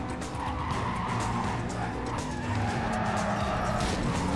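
Tires squeal in a sustained, loud skid as a race car slides through a turn in the video game Need for Speed Carbon, with the engine roaring underneath throughout.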